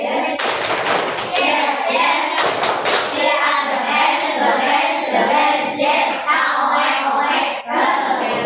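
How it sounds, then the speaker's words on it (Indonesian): A classroom of children performs a rhythmic cheer clap led by a teacher, with quick patterned hand claps and thumps repeating loudly and close for several seconds, mixed with the kids' voices. "Tepuk semangat."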